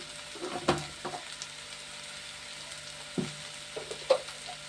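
Spices and ginger paste frying in a pan, giving a soft continuous sizzle with several louder bursts of crackling and stirring scrapes at irregular moments, close and fairly quiet, no voices.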